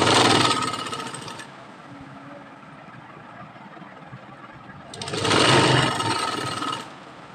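A sewing machine stitches lace onto a dupatta, running in two loud mechanical bursts at the start and near the end, with a quieter steady hum between them.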